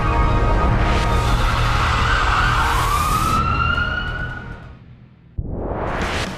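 A siren sound effect wails loudly with rising and falling tones over a dense, noisy bed, then fades away before a sudden cut to a different noisy background.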